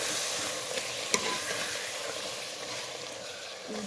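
Fenugreek leaves stirred and fried in a pan, a steady close sizzle with soft scraping stirs and one sharp utensil tap.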